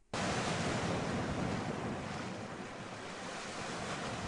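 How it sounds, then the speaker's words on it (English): Ocean waves wash continuously against a shore while wind buffets the microphone, a dense, steady roar lasting several seconds with no voices. "if I were to press play here, you're going to hear the background noise of the water."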